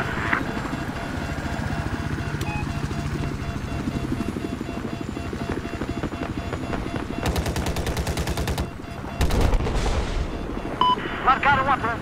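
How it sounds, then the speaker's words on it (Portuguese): A bomb drops and detonates in Battlefield 4 amid continuous gunfire and rumbling combat, with sharp bursts and a heavy blast toward the end. "Largaram a bomba."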